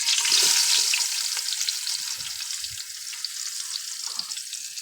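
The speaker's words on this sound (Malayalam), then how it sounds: "സബള ഇട്ട് കൊടുക്കട്ടോളി" Onions frying in hot sunflower oil in a pan while cooking vegetable biryani, giving a steady, close crackling sizzle with scattered spits and pops and no talking.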